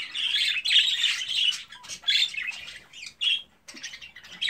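Pet birds, a clutch of new arrivals with a green-coloured brood, chirp and tweet in rapid overlapping bursts close by, a steady busy chatter with brief pauses and no talking.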